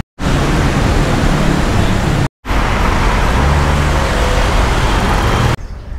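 Steady, loud road traffic roars continuously on a bridge in Korat, Thailand, heard during a motorcycle tour, with a brief drop-out partway through and the noise cutting off abruptly near the end.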